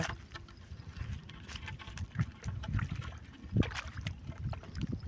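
Feet wade through shallow water along a forest path, giving irregular splashes and sloshing trickles, moderately close with faint background ambience and no talk.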